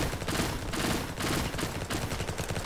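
A pixie gun in a video game fires in rapid, dense bursts, close and loud, with short pauses between volleys of crackling automatic shots.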